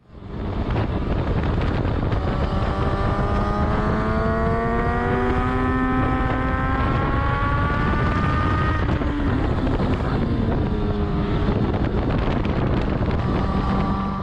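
A motorcycle laps a race track, recorded onboard by a GoPro Hero 7 Black. The engine's whine climbs steadily through the gears and then drops back, all under constant loud wind rush, with no talking.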